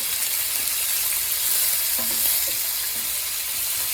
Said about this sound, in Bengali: মাছ ভাজা এদিকে হয়ে যাচ্ছে উল্টিয়ে নিচ্ছি